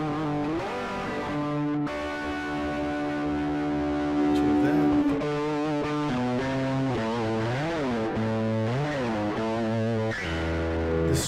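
An electric guitar played through a Bogner Burnley Classic distortion pedal sustains thick, gritty notes and bends, a loud continuous creamy-distorted tone with wavering pitch throughout.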